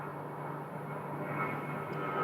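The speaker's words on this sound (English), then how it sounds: "This is an Airbus A320." An Airbus A320 jet taking off at Sky Harbor airport, a steady distant engine roar holding evenly throughout, with no voices.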